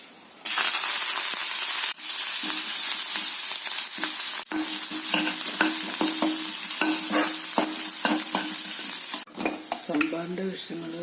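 Chutney ingredients frying in a pan, a loud steady sizzle broken by short pauses and the scrape of stirring, with a sharper spattering burst near the end.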